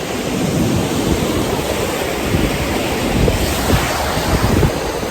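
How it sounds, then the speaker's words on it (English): Ocean waves breaking on a beach in Punta Cana under a red-flag rough surf, a loud continuous roar with heavy wind buffeting the microphone and repeated low crashes, no voices. "making me walk next to the water on this side so the waves knock me down."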